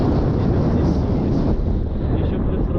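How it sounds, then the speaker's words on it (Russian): Strong wind roars continuously across an open mountain on the Crimean coast as rain begins, a dense, loud, unbroken rush buffeting close to the microphone. "Максимально усилился ветер, дует в нашу сторону, срывается дождь."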